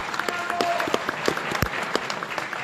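Audience applause at a blues concert at a jazz festival, a dense burst of clapping from a large indoor crowd that carries on steadily for the whole stretch without a voice over it.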